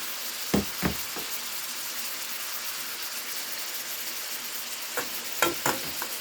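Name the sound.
ramen noodles stir frying in pan with soy sauce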